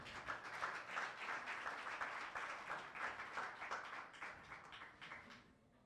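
A church congregation at a pastor's gathering clapping and cheering in acclaim, rhythmic rounds of applause with crowd voices, fairly distant and fading out at the end.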